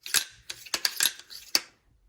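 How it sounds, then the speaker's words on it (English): A rifle bolt is worked back and forth during cleaning with oil, giving a quick series of about five or six sharp metallic clicks and slides, close up. "And then you just work the bolt back and forth."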